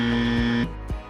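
A team presses the quiz buzzer during a Fit India Quiz quarter-final, setting off a loud, steady electronic tone that holds for just over half a second and then cuts off.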